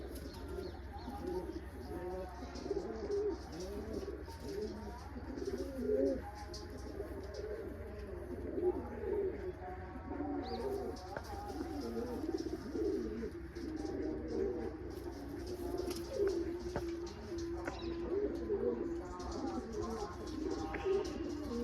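Many pigeons coo continuously in a dense, overlapping murmur, steady and fairly close throughout, with no one speaking.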